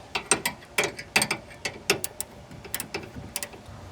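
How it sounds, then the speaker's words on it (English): A 10mm ratchet wrench tightens a bolt during a catch can install on a Ford Maverick Tremor 2.0 EcoBoost, crisp close clicking bursts in quick irregular runs, no talk. "let me grab a 10mm, tighten that up"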